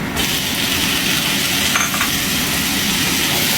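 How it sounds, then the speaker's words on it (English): Tomatoes go into a pan of browning garlic and onions, giving a loud, continuous sizzling hiss that stays steady and close throughout, with a brief clink partway through. "At this point, we're going to add in our tomatoes."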